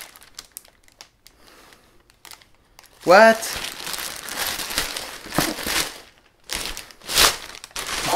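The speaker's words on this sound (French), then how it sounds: "elles sont emballées en fait dans un papier comme ça" Paper protective wrapping around Harry Potter merchandise crinkles and rustles in bursts, loud and close, with a person speaking briefly among the handling noises.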